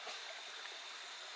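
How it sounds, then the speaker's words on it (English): Clear, crystal-clear forest stream in a rainforest reserve flowing steadily with a soft, continuous broadband rush and hiss, fairly quiet and alone without voices. "beautiful crystal clear water stream."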